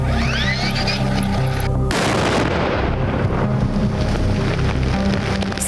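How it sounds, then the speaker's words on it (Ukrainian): A deep, heavy blast from a controlled detonation of explosive ordnance erupts suddenly after a moment of lighter noise, followed by a long rumbling roar and a shower of debris-like crackle, distant but powerful. "Серією керованих вибухів знешкоджено близько сотні боєприпасів та дві протитанкові міни."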